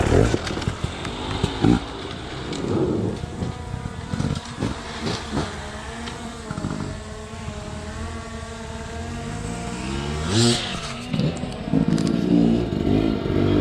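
A hard enduro dirt bike engine revs and drops repeatedly in rising and falling surges as the rider works through a technical section, fairly close and loud, with a brief voice near the start.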